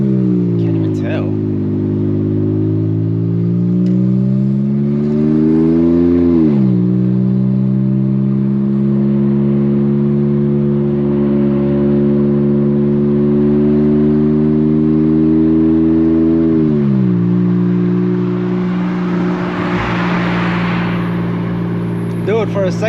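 An Infiniti Q50 Red Sport with a turbocharged engine pulling hard at night: a loud, rising engine tone climbs through two gear changes, then a hissing turbo whoosh late on, with voices talking underneath.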